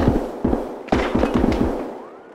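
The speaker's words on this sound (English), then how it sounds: "he's shooting at something" Gunfire in the shooter game Escape From Tarkov, a rapid string of sharp close shots in two bursts with short gaps, loud and echoing, with no talk over it.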